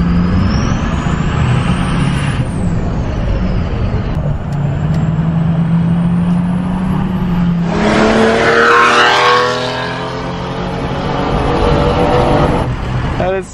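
Mercedes S600 V12 engine running loud, a continuous deep rumble with a surge of revs partway through, heard close with some talking over it.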